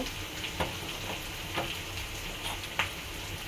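Onions frying in oil and turning nearly brown for a dried fish (chepa shutki) bhuna curry give a soft, constant sizzle with occasional small pops and clicks.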